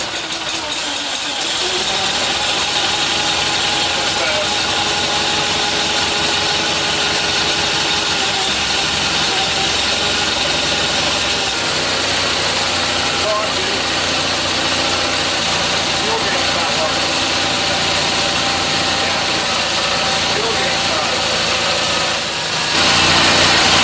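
A 20hp Kohler Magnum engine on a Simplicity Sunstar tractor idles steadily and close, its dense, even drone running unbroken throughout.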